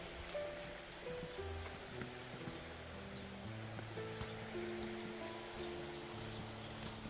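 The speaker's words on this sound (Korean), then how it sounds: "물소리가 아주 좋습니다." A mountain stream beside an empty house in a rural Korean mountain village flows in a steady broadband rush, with a faint tonal hum underneath and no talking.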